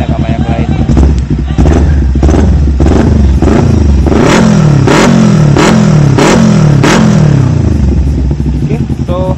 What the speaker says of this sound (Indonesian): Kita cek sound gimana nih gaharnya Ninja 250 FI pakai knalpot Pro Speed. So kita geber dikit ya guys